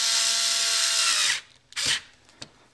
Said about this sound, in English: I'll go ahead and use my screwdriver